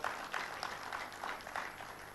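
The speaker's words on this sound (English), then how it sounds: "A big round of applause for James Orengo" Audience applause at an international investment conference in Kakamega, a steady, fairly faint wash of clapping from a crowd lasting a couple of seconds.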